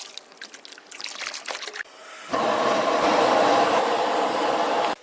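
Water gushes steadily into a pot holding a whole beef head, a loud, continuous broadband pour starting after about two seconds of lighter trickling and handling, then cutting off abruptly near the end.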